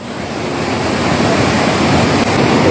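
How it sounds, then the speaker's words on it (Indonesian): Fast whitewater current of the Situmandi river at Hutabarat, Tarutung, a popular rafting river: a loud, continuous broadband roar of rushing water, steady and close, with no voices. "arus Sungai Situmandi ini juga kerap dipergunakan para pencinta arum jeram dan mereka mengakui kenikmatan menjajal derasnya arus sungai ini"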